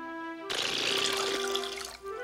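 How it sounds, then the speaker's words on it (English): Water gushes steadily from a cartoon water fountain for about a second and a half after a brief tone, then cuts off. "Perhaps a visit to the water fountain would be in order instead."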